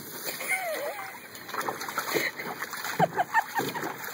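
A garden hose sprays water into a pool, giving irregular nearby splashing and spattering that rises and falls in bursts, with faint voices in the background.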